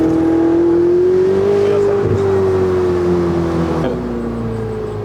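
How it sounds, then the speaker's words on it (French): A Ferrari 488 Spider's turbocharged engine and exhaust drone loudly from close by, the pitch rising slowly as the car pulls, then easing off near the end with a brief whoosh. "elle a une sonorité qui, entre l'échappement et les turbos."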